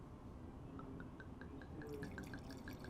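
Red Bordeaux wine pours from a bottle without a drip stop, giving faint, quiet trickling with a light run of small drips in a calm, near-silent room.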